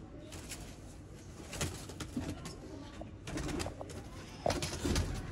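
Sialkoti pigeons at a loft coo faintly and intermittently amid rustling, with a few wing flutters and handling noises nearby.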